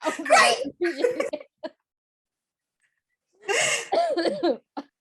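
A person coughs and sputters in two harsh bursts separated by a short silence, close to the microphone.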